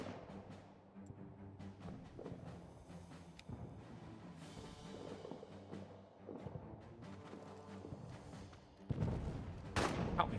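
Scattered gunfire in the World War I trench game All Quiet in the Trenches, distant rifle shots and fusillades over a low rumbling battlefield backdrop, rising to a louder, denser burst near the end.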